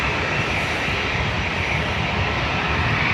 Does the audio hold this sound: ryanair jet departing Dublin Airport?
yes